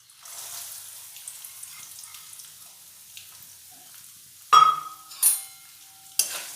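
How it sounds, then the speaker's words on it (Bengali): Grated coconut fries in hot oil in a wok, starting with a faint, steady sizzle and then a few sharp bursts of spitting and crackling as the pan is stirred. "প্রথমে আমি কড়াইয়ে তেল গরম করে নিয়েছি, এবার ওতে দিয়ে দেব এভাবে কুচিয়ে নেওয়া নারকেল।"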